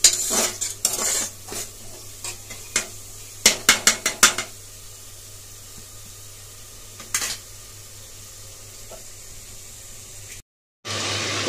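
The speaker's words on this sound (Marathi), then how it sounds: "मधून मधून आपला मसाला हलवून घेऊया, नाहीतर खाली बसेल म्हणजे जळेल." A spoon scrapes and clinks against a pot as masala for biryani is stirred in hot frying oil, several quick bursts of scraping over a soft steady sizzle, then a quieter stretch with only occasional stirs.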